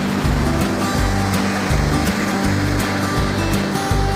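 Sea waves roll in at Juhu Beach in Mumbai, surging and washing loudly and close at a steady pace with a brief break between each wash.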